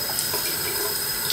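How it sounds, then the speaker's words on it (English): Light tap water running steadily into a sink over a piece of an Elevation Training Mask 2.0 being rinsed, a constant close hiss and splash with no voices. "take each piece individually and run it under the tap"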